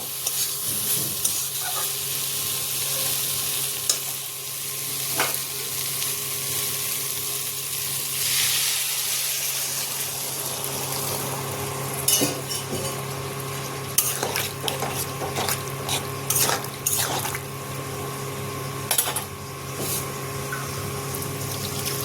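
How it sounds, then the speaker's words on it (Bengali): Hot water poured into a sizzling soybean curry with kasuri methi, the frying hiss giving way to a steady, bubbling rush of liquid with scattered clinks of a spoon stirring in the pan. "ভালোভাবে মিলিয়ে এর মধ্যে গরম জল দিব আমি"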